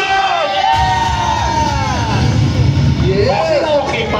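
A festival crowd shouts and cheers at a political rally, a dense, continuous roar of voices with rising yells.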